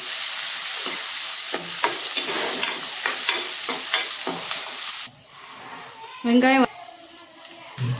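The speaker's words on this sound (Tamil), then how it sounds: "வெங்காயம் பச்சை மிளகா வதங்கட்டும்." Onions and green chillies sizzle and crackle in a hot pan while a spoon stirs and scrapes, then the frying drops quieter and a short whistle-like tone sounds.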